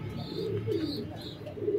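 Pigeons kept for sale coo in low, rolling phrases that repeat close by, with faint chirps mixed in and no talk.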